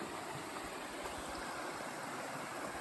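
Econfina Creek streaming steadily along a wooded trail, a continuous broadband rush of flowing water, close and even, with no talk over it.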